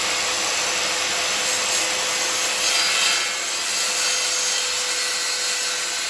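A circular saw cuts through plywood on a diagonal, a steady loud broadband whine with a rasping wood-cutting texture that holds for several seconds with slight swells.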